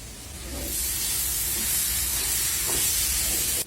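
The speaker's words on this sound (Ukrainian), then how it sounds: "Капуста трішечки підсмажилась, додаю засмажку." A steady loud sizzle from a frying pan of cabbage, continuous hissing that swells as a sauté of onion, carrot, tomato paste and spices is added, close by.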